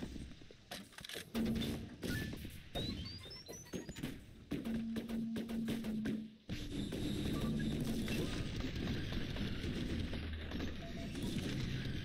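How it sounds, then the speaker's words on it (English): Laser missile fire in the game Cobalt: a flurry of sharp blasts and zaps with electronic tones, followed by a sustained noisy roar of energy weapons at a fairly low level. "Laser missile."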